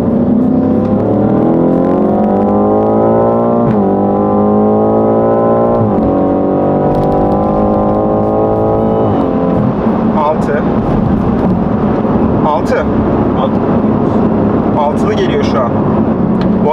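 A BMW F90 M5 pulls hard from 100 to 200 km/h, its engine note rising steadily through several upshifts with a loud, close cabin drone. Wind and road roar build as speed climbs, and people talk over it.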